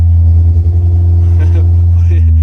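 A 1200 Hillman Imp engine runs on a dyno, holding a loud, steady low idle with a throbbing rumble.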